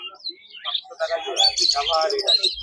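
Exotic pet birds at the Serampore bird market chirp in quick, overlapping bursts of high tweets, fairly close, with busy calling building toward the end.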